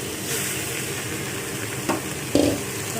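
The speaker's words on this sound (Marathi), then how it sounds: "हे भाजल्यानंतर चिकन टाकून घ्यायचं" Chicken sizzles and fries steadily in a pan with onion and tomato, with a couple of brief scraping stirs near the end and no talk.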